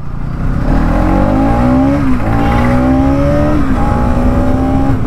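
A 2025 Bajaj Pulsar NS200 motorcycle engine revs loud and close, its pitch climbing and dipping in repeated throttle sweeps with a steady underlying drone throughout.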